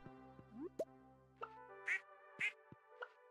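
Duck quacks from the Stardew Valley farming game, a few short nasal quacks spaced apart among soft game blips and plops, quiet and without speech.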